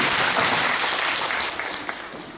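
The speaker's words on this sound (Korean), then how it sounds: "여러분 박수 부탁드립니다." Loud, dense applause from the audience at a Busan International Film Festival screening, sustained from many hands and easing slightly toward the end.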